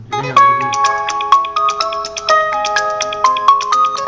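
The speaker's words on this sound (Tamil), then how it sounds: "நோட்டிஃபிகேஷன் வரட்டும் நான் வெயிட் பண்ணுறேன்" A phone app plays a bright melodic notification ringtone, loud and close, a repeating chime tune of ringing tones with steady rhythm and no voices.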